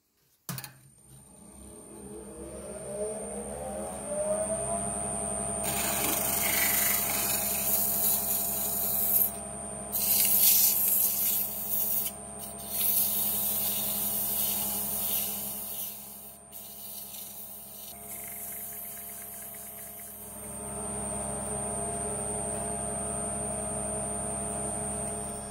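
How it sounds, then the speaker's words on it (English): A lathe motor hums steadily while a gritty hiss of sanding on a cherry wood candle holder comes and goes in long strokes, then the hum continues alone. "Let's go to some sanding."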